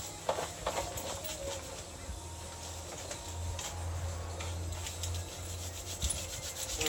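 Steady scrubbing and rubbing of a scrubber soaked in purple cleaner, working grime off a surface, a continuous close rasping scrape with a low droning hum underneath and no talk.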